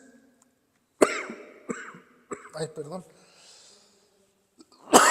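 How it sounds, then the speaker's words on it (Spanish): A man preaching a Spanish sermon breaks into a coughing fit: several sharp, harsh coughs and throat clearing close to the mic, with a brief spoken apology between bursts. "me atacó la tos"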